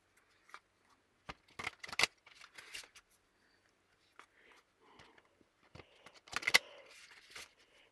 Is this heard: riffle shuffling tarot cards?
yes